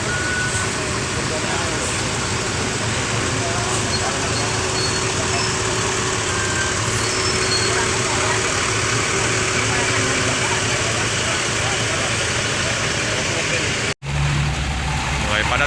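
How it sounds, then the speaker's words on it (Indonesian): A Rosalia Indah intercity bus bound for Jember pulls out into dense traffic, its engine droning loud and steady with repeated reversing beeps over it, before an abrupt cut. "Oke teman-teman, bus jurusan Jember diberangkatkan ya"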